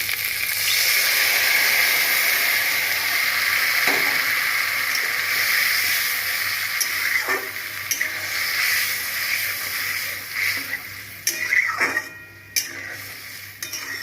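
Cauliflower and potato fry in a pan as poppy seed paste is added, making a continuous close sizzle and hiss broken by occasional scrapes and clinks of a utensil against the pan, with no talking.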